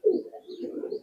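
A pair of Imamdin pigeons gives a short, soft coo, close and alone, lasting about a second.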